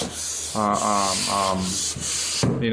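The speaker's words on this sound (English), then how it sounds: "they are nice and dry, so you can sand them down, take all the imperfections" Sandpaper rubs over dried drywall patches on a ceiling with several steady, loud scraping strokes, each lasting about half a second, up close and with no talking.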